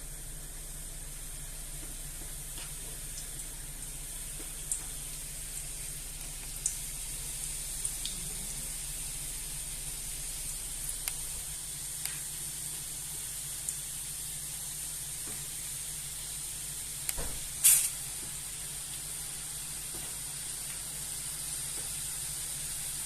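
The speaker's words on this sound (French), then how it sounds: "Je vais tout de suite pour la plonger dans l'huile" Pastry dough for langue d'oiseau cakes sizzles in hot frying oil, a faint, steady hiss with a few soft pops and crackles scattered across the stretch, no voices.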